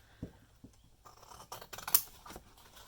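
Scissors cut through paper while making a journal, a few quiet, close snips and crisp rustles that grow a little denser toward the end.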